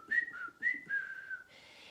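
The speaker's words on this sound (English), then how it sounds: "Can you whistle?" A person whistles alone at close range, two short rising notes and then a longer held tone that slides downward, all fairly soft.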